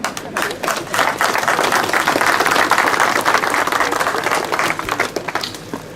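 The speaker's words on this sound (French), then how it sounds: "vous pouvez déjà vous-même vous applaudir" An outdoor audience at a field trial claps in sustained, dense applause, loud and close, for several seconds before it thins out at the end.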